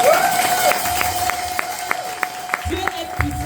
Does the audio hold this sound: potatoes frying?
no